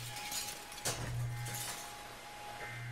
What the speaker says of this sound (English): Break the glass!